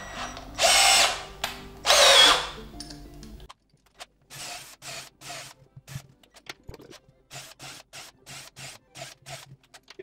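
A power drill bores holes of different diameters into a log for an insect hotel: two loud, close whining bursts, followed by a run of short, quieter rhythmic scraping strokes.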